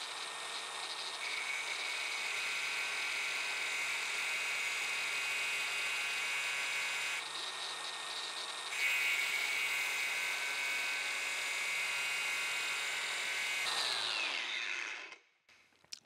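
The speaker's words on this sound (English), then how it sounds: "between an angle grinder and a die grinder, maybe we can get it cut out of there." Die grinder fitted with a cutoff disc cutting metal on a capstan crank drive, a high sustained whine with a steady grinding hiss lasting about fifteen seconds before spinning down, close and alone.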